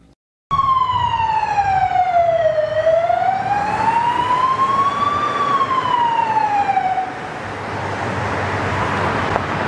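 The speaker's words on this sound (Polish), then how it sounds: "Chyba próba sygnału była jakaś." Siren test on a police BMW R 1250 RT Boxer motorcycle: a loud, close wail that rises and falls in a slow sweep for several seconds, then cuts off, leaving street and traffic noise.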